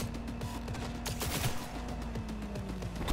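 Rapid gunfire in Cyberpunk 2077 during a heist, bursts of shots crackling continuously over a steady game soundscape with a sustained tone underneath.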